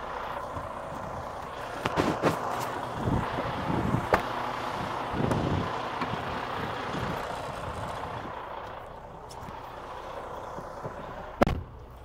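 A Class A truck's air brake governor cuts out with a few sharp hissing bursts of released air, like a sneeze, over a low idling engine rumble; the last burst is the loudest.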